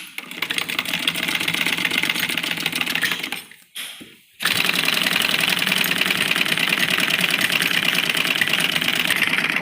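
A sewing machine stitches printed kurti fabric with a rapid, steady mechanical chatter, running close and loud, stopping briefly with a slowing whir before starting again at full speed.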